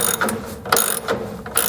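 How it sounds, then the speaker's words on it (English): A hand ratchet fitted with a 15/16 socket clicks loudly and close as it tightens gooseneck hitch bolts under a 2017 Chevrolet Silverado bed, several rapid bursts of pawl clicks in a steady back-and-forth rhythm. "These larger bolts, a 15/16 socket will do the trick"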